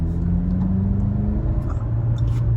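A 2022 Toyota Camry LE with a 2.5 liter 4-cylinder engine and automatic transmission accelerates, giving a steady, close engine drone and road rumble with a faint rising tone throughout.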